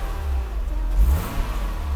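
The 103 engine of a 1993 Mercedes-Benz G463 300GE is briefly revved during a test after fuel distributor repair, a deep rumble that swells to a peak and falls back to a steady low idle, heard up close.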